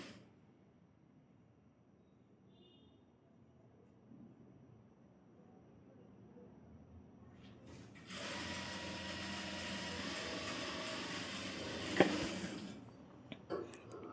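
A sewing machine stitches around the neckline of a short top, starting quiet and then running in a steady, close, rapid burst for several seconds before stopping, with faint handling clicks before and after.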